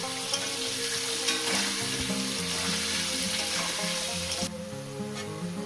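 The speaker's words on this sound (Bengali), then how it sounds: "এবার লবণটা দিয়ে আমি মাছগুলো এই আলুগুলো ভেজে দেবো" Potato pieces sizzle loudly and steadily in hot oil while frying for a rohu fish curry, a dense crackling hiss that stays close and constant, with occasional stirring and no voices.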